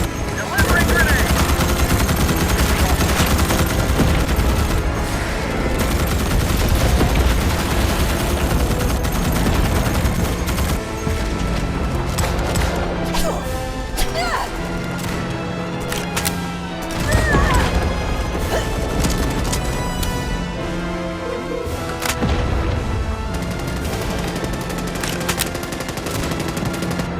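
Dense gunfire and explosive crashes fill a Starship Troopers: Extermination battle, with machine-gun bursts, a grenade blast and sharp impacts layered loud and continuous, with a voice shouting briefly amid the action.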